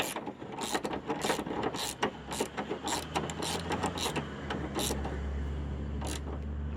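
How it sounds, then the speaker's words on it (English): A 1/2-inch ratchet tightening transmission mount bolts on a 2010 Honda Civic EX, a close run of quick mechanical clicks in uneven bursts over a steady low hum. "I'm using a 1/2" ratchet."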